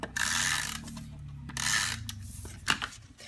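Adhesive tape runner rolled across a navy card panel for a handmade stamped card, giving two bursts of close, ratcheting, rasping clicks with a sharper tap near the end.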